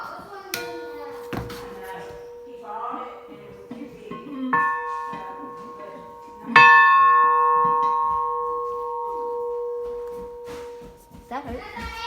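Old school bells ring out several times, bright metallic clangs that each leave a long sustained ringing tone, with brief handling noises and faint voices between strikes.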